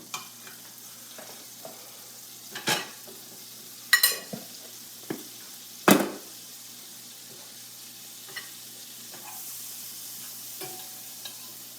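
A duck egg sizzles steadily in a pan, a soft continuous crackle broken by a few sharper pops and clinks.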